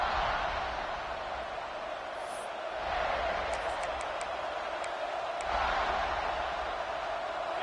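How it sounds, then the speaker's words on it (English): Football stadium crowd roars as a steady, dense wash of massed voices, swelling louder in waves with scattered whistles and shouts, while a commentator talks over it. "This crowd ready to make its presence known."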